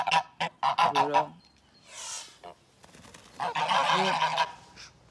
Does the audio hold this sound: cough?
no